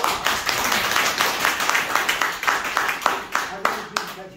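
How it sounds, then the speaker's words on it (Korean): A small class audience claps at a golf education session, with distinct sharp claps in an uneven rhythm, moderately close, under a bit of background murmur. "박수 한번 치고"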